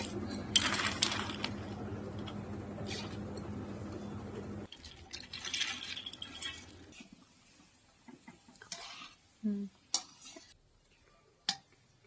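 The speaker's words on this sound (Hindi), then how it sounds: "ये मैं डालती हूँ काजू" Cashews tipped into a pan while making gond laddoo give a few sharp clinks and rattles against the metal, spaced apart, with quieter scraping and stirring in between and long near-silent gaps.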